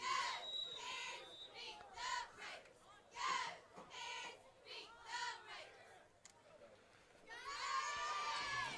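A crowd at a Saturday morning high school football scrimmage chatters and shouts in bursts of mixed voices, including children, fairly distant and moderately quiet throughout.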